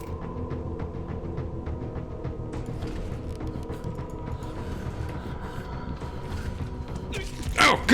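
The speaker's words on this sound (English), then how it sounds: "We're opening the door first." A door slowly creaks open in a horror video game, a long grinding mechanical groan with rhythmic ticking clicks, rising to a louder scrape at the end, with no talk.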